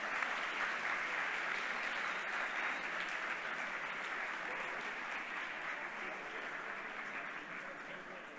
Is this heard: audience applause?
yes